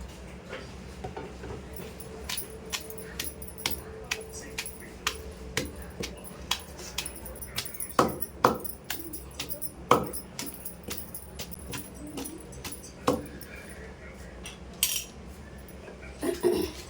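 A large onion is pounded in a mortar for tomato roti chutney, giving irregular hard knocks and clinks over a faint background hum, sparse at first and then more frequent, close by.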